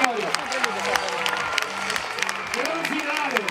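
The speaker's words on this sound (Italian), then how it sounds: "Applausi dalla tribuna, signore e signori." Applause rises from the grandstand at an outdoor athletics meeting in Terrasarda as a women's race finishes, a steady patter of many hands heard over continuous, excited race commentary.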